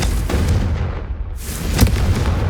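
Confringo fire spell in the Hogwarts Legacy video game bursting in a loud explosive boom, with sustained rumbling blast noise and a second sharp burst near the end.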